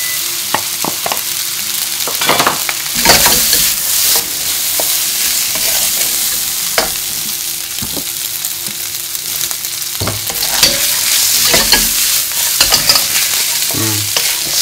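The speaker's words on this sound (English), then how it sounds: "Okay, now I'm going to put some rice in." Rice stir-fried in a pan after drained noodles, with a loud continuous sizzle and frequent scraping and clattering strokes of a utensil throughout.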